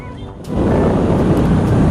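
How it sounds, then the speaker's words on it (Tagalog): Loud sea waves breaking at a beach, a rough low roar with wind buffeting the microphone that swells in after a brief quieter moment and holds steadily. "Big Bird, ang lalaki ng alon."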